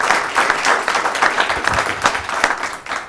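A room full of people applauds loudly, dense clapping sustained from start to finish.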